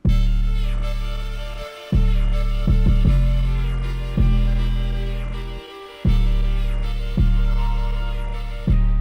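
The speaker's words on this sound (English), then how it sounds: "I just have it kind of doing the same thing on Effectrix, so that it's kind of pulsing." A synth melody built in FL Studio pulses in loud, repeating swells, each dropping out abruptly into short gaps and scratch-like stutters produced by Effectrix and Gross Beat effects, playing alone.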